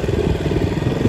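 A motorcycle idles nearby on a ride to Indrasarobar Lake near Kulekhani, giving a steady low rumbling throb with no talk.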